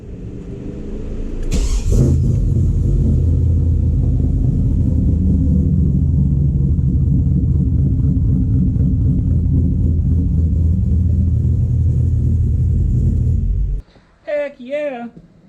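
A third-generation Trans Am fitted with a new high-torque starter cranks briefly and fires, then settles into a loud, steady idle rumble close by for over ten seconds before cutting out, followed by a short burst of speech.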